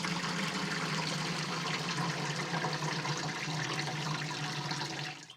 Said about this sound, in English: We're going to pour all that water out to separate the gel.